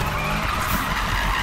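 Tires squeal in a sustained skid as a BMW M3 E30 drifts in the video game Need for Speed (2015), a continuous loud screech over low engine rumble.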